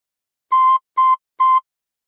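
A recorder sounds the same clean note three times in a row, each short blow evenly spaced and separated by silence, with nothing else audible.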